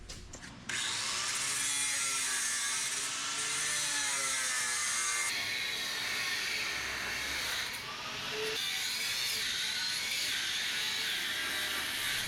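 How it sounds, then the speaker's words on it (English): An angle grinder cutting metal off a mini excavator thumb, a continuous harsh, loud grinding whine with pitch wavering as the disc bites, dipping briefly mid-way before resuming. "Let's get to grinding. We're just gonna grind that right off there."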